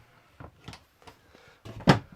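A few soft knocks and scrapes, then a sharper clack, like a storage drawer in an Elddis Encore 285 caravan sliding open and bumping to a stop nearby.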